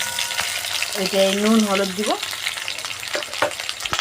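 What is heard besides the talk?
potatoes frying in oil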